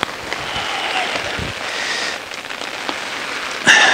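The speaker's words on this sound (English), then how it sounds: "it's absolutely hammering it down with rain" Heavy rain pouring down in the Forest of Dean woodland, a dense steady hiss of drops drumming on surfaces throughout, close and fairly loud, with a sharp brighter burst near the end.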